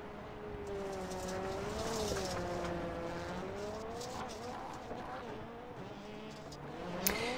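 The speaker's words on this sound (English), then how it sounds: "I hear them not being able to shift too, where they're trying to shift and it's just not happening for them" Rallycross race cars at Daytona struggling to shift gears: a steady, close engine drone that rises and falls in pitch as the revs climb and sag, with a sharp tire-like squeak near the end.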